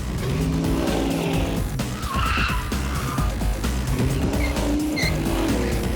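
A car driven hard in a crash-test stunt, its engine roaring loud and continuous over heavy music, with tire squeal near the end as it surges toward the ramp.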